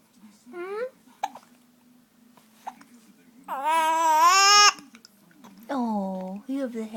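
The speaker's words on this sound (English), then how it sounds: "You have the hiccups." A baby hiccups in short, sharp, repeated bursts mixed with babbling vocal sounds and a few longer cooing cries, close and clear indoors.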